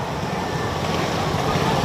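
Steady rain falls on a street in Jabalpur as a dense, even hiss with no breaks, close and moderately loud.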